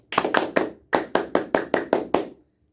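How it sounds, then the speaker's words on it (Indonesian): Pramuka scout clap pattern from a single performer: three quick claps, a short pause, then a faster even run of six claps, crisp and close before ending in silence. "Tepuk Pramuka."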